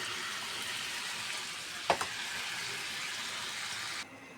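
Vegetables fry in a pan with a constant close sizzle, broken by a sharp crackling burst partway through before the sound cuts off; no one speaks.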